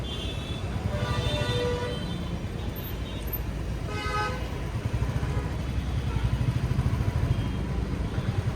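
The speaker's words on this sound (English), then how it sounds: "this car guy behind me starts honking like it's a sport" A car horn honks repeatedly behind a motorcyclist in Nagpur traffic, sounding in loud, sustained blasts over the steady rumble of the engine and road noise.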